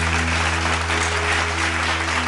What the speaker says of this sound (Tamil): கைத்தட்டுங்க ஒரு தடவை